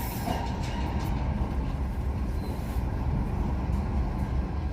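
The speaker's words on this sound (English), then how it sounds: "Let's watch as the train passes." A train rumbles steadily past nearby, a continuous heavy roar of wheels on rails with faint clatter throughout.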